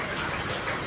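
Steady rain pours down on surfaces outdoors during an anniversary gathering in Banten, a dense continuous hiss of drops, loud and close, with no talk over it.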